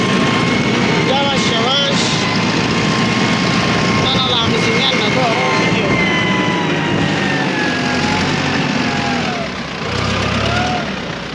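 A farm tractor fitted with a loader bucket runs steadily nearby while being moved, its engine a constant rumbling drone, with a person talking over it throughout.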